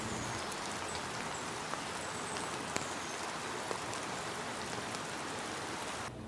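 Steady rain falls in the woods around a hunting tree stand, a dense, even hiss of drops close by with a few sharper taps on nearby surfaces, continuing without pause.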